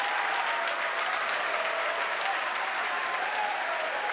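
Crowd at the SpaceX Falcon Heavy launch carrying the Arabsat-6A satellite, April 2019, cheering and clapping loudly and continuously in a dense, sustained roar throughout.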